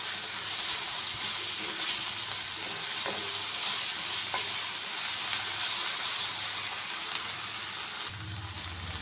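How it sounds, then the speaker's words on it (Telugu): Ginger garlic paste fries in a pan with a constant, loud, hissing sizzle close by. It carries on without a break, with an occasional soft stir and no one talking. "పచ్చివాసన పోయే వరకు బాగా ఫ్రై చేసుకోవాలి."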